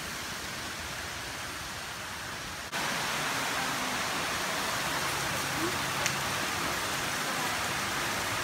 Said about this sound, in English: It's getting a lot heavier, a lot more wind too.